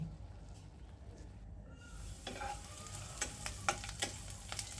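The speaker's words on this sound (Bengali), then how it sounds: "মরিচগুলো ভেজে নেব ধনিয়া পাতাও ভেজে নেব" Green chilies and coriander leaves frying in a pan, a soft hiss that grows into a crackling sizzle with scattered pops and stirring, fairly quiet and close.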